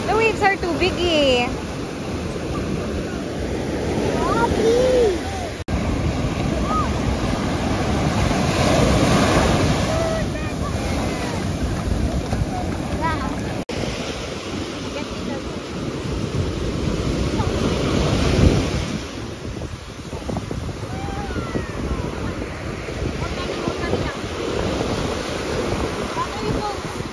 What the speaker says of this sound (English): The waves are too big, eh.